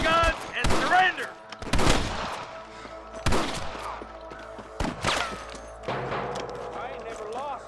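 Gunfire from snipers in Red Dead Redemption, several loud sharp shots spaced across the stretch with echoing tails, mixed under game music and ambience.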